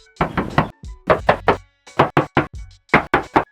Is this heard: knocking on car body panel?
yes